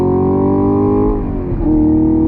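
A deep, throaty naturally aspirated 6.2-liter V8 in a 2022 Chevrolet Camaro SS 1LE drones steadily, its pitch dipping briefly and then climbing again as the car pulls hard, loud and close.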